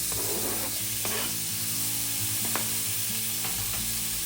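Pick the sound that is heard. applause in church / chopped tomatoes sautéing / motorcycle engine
chopped tomatoes sautéing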